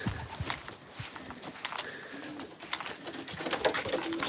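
Racing pigeons in a loft give soft, scattered coos and rustles, faint and close, with occasional wing flutters and light knocks in the background.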